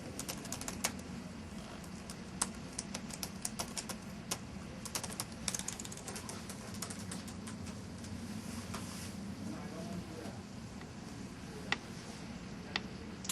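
Steady typing on a computer keyboard during a login, quick irregular key clicks with a few sharper taps, fairly close over a low room hum, with no talking.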